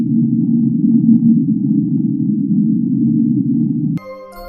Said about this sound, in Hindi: ये आवाज मारियाना ट्रेंच के सबसे डीपेस्ट पॉइंट से आई थी, और साइंटिस्ट का मानना है कि ये शायद किसी व्हेल की आवाज होगी